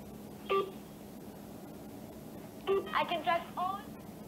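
Phone dialing tones from a call that fails to connect: a single beep, a pause, then a quick run of several tones, close and clear over steady background hum.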